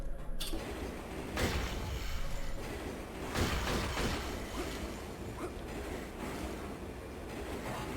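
A train runs in the video game Turok 3: Shadow of Oblivion, a dense continuous rumble and rattle with a few louder whooshing surges, steady throughout and without speech.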